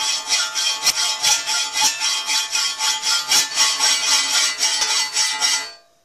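A hand saw cuts through metal for a model steam locomotive chassis frame in steady back-and-forth strokes, a bright rasping scrape repeating about twice a second, close and clear, then stopping.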